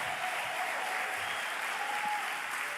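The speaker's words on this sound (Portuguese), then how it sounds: "Tá fraco esse aplauso." Faint, steady audience applause at an academic lecture event, a soft continuous patter of clapping heard from a distance without voices.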